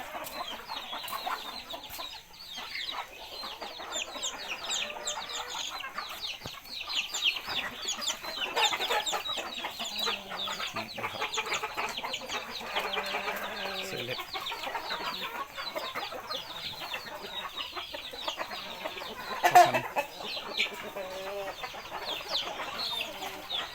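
A flock of chickens clucks continuously at a moderate distance, a busy overlapping chatter of many birds with no other sounds standing out.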